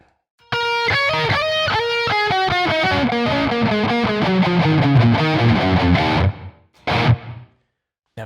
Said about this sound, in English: Spring reverb, my least favourite.